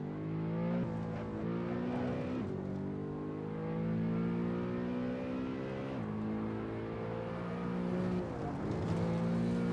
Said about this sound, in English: you can hear the audio of the car so much better through here